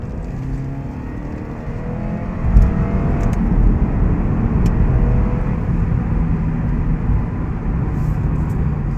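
A 2016 Lexus IS 200t F Sport's 2-liter turbocharged engine heard from inside the cabin: a steady, fairly loud drone and road rumble that swells slightly partway through, with no voices.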